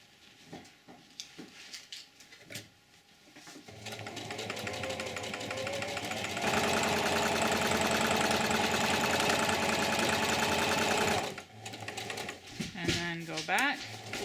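A sewing machine stitches canvas moccasin uppers, starting after a few seconds of quieter handling, running as a steady mechanical whir that grows louder midway, then stopping abruptly before more rustling.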